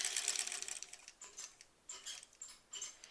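A vintage sewing machine stitches a curved seam in short, uneven bursts, its needle mechanism whirring and clicking close by with brief pauses between runs.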